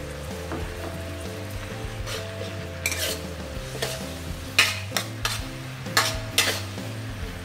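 Stir-frying in a pan with oyster sauce added, part of a Khmer home-cooked dish: steady close sizzle under a low hum, with several sharp scraping clatters of a utensil against the pan toward the end.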